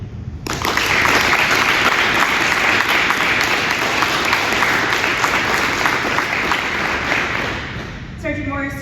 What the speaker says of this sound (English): Let's give Sergeant Morris and his family a round of applause for their commitment, sacrifice, and unwavering service to our state and nation.